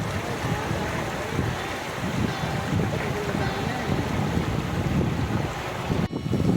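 The Jarkhan river flows in a forest along the Narmada parikrama route, a steady rushing wash heard close to the microphone with heavy wind buffeting over it and people talking nearby.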